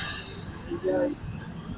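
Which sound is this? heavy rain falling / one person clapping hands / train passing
train passing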